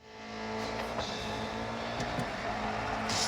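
A Koenigsegg races a Volkswagen Golf in the mobile racing game Need for Speed No Limits, with a loud, steady engine roar that builds slightly and carries brief tire and impact noises, no talk over it.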